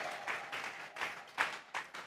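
A church congregation at a Sunday service claps in scattered, uneven bursts, a light patter of hands with a few sharper peaks, fairly distant and fading in and out over two seconds.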